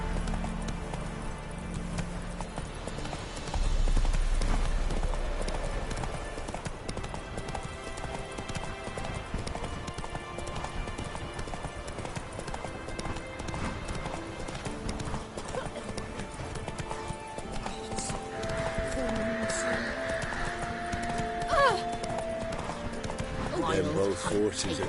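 Roach, the horse in The Witcher 3, gallops with continuous rhythmic hoofbeats and an occasional whinny over game music and effects, while a voice talks over it.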